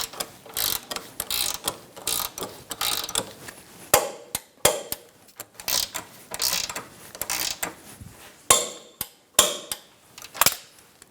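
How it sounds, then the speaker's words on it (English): A torque wrench ratchets in quick repeated bursts while subframe bolts are tightened on a 2012-2017 Hyundai Accent 1.6L during a CV axle replacement, close clicking strokes separated by brief pauses and sharp metallic clicks. "let's torque these to 50 foot-pounds"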